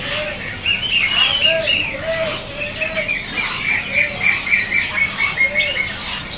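A magpie robin (murai) in a bird shop calling with repeated bright whistled phrases, close and clear, with voices chatting quietly in the background.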